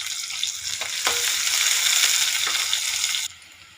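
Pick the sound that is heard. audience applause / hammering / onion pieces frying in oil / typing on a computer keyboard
onion pieces frying in oil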